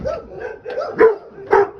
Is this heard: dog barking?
yes